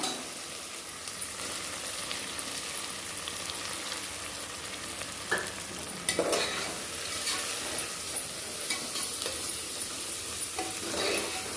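Ginger garlic paste sautéing in a pan for mushroom biryani, a steady close sizzle with scattered stirring scrapes and a few louder clinks of a utensil against the pan.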